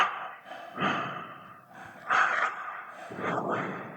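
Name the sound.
heavy breathing into headset microphone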